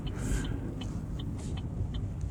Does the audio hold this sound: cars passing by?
yes